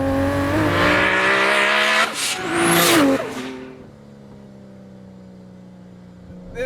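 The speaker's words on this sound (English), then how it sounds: "Spin in second there." A 930 whp JDM Toyota Supra roars loud and close as its engine screams through wheelspin in second gear, revs climbing steadily, a brief squeal near the peak, then easing off to a lower idle-like drone.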